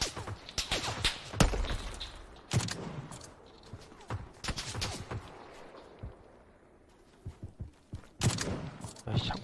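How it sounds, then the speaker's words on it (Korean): Sharp gunshots in the video game PlayerUnknown's Battlegrounds on Xbox, Vikendi map, crack out in scattered bursts, some single and some in quick runs, with quieter stretches between, loud and close. "총소리만 들리네"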